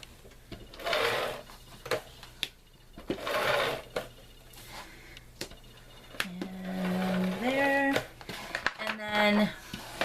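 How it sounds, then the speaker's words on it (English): Adhesive strips dispensed from an ATG tape gun onto a composition book cover being altered for a craft project, giving short mechanical whirring and clicking bursts near the mic, with talking in between. "I just use my ATG gun. So I like to add a few strips on here."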